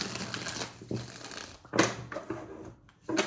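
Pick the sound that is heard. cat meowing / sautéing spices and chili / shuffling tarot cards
shuffling tarot cards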